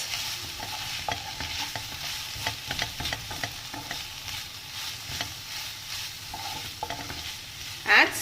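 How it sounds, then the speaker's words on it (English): Fenugreek leaves with salt being stirred in a pan, soft scraping strokes over a gentle low sizzle, fairly quiet with a brief louder knock near the end and no voices. "And give it a good mix"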